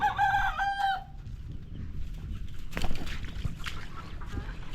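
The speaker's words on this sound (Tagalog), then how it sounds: "Ito yung bagong bili namin manok." A rooster crows loudly and close at the start, then native chickens cluck and scratch about nearby with scattered rustling.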